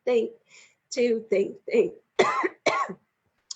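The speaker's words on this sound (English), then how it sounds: "all those deep breaths gave me a little bit of a cough there" A string of short coughs in quick succession, close and fairly loud, with brief pauses between bursts.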